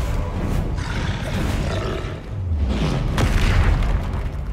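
A Confringo fire spell explodes in the Hogwarts Legacy game as a sustained booming roar, loud and close, surging again near the end with no talk over it.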